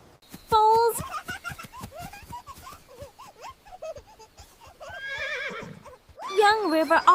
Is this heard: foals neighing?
yes